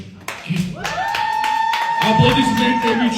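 Applause at a TFC fight event, mostly scattered claps mixed with an announcer's voice over a PA, some cheering in the crowd behind.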